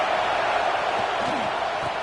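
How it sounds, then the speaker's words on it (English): Stadium crowd noise at a football game, a constant roar of many voices filling the space at steady volume, with a few faint thuds beneath it. "This crowd bringing the energy and noise early."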